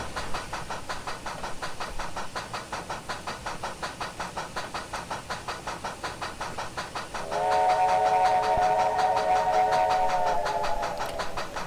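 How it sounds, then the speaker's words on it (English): A steady rhythmic chugging of a MNRR T-3 4-6-0 steam locomotive in the game Trainz 2019 runs throughout, joined midway by a long, loud multi-tone steam whistle with a thin, dated quality. "And the whistle, it just kind of sounds like an old recording."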